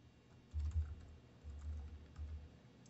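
Typing on a computer keyboard while writing HTML tags, three short bursts of soft, close keystrokes separated by brief pauses over a faint background hiss.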